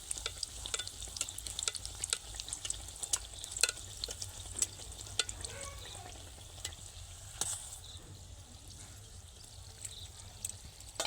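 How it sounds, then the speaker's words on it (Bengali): Fish-stuffed luchi deep-fry in hot oil, giving a dense, continuous crackling sizzle with fine popping bursts throughout, close and steady. "একই রকমভাবে লুচিগুলো আমি ভেজে নেব"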